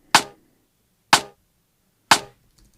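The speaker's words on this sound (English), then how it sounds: "So the first thing I did is to get this snare drum from an old hip-hop record." A single snare drum hit sampled from an old hip-hop record sounds three times in isolation. Each crack is sharp, dry and punchy, with a short decay and about a second of silence between hits.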